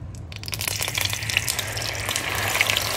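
Egg and sesbania flowers hit hot oil in a pan with a sudden loud hiss, then settle into a steady, bubbling sizzle that crackles throughout.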